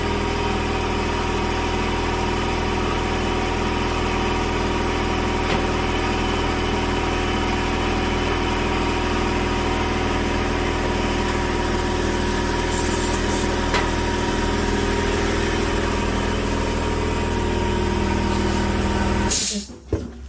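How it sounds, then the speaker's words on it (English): Air compressor running to inflate tyres, a steady loud droning motor hum with constant vibration that holds for the whole stretch before cutting off sharply at the end. "let me get the compressor on"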